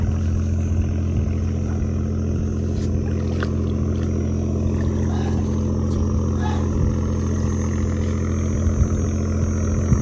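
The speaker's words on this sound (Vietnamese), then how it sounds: "Ghe chạy quá trời mà." Motorboats chug past on a river in the Mekong region, a steady loud engine drone with faint splashes and scattered background noises throughout.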